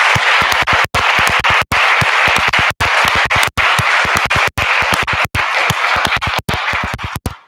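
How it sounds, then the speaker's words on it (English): A school honors and scholarship night audience gives sustained, loud applause for the valedictorian and salutatorian, dense clapping continuing throughout. "So let's give these guys a round of applause."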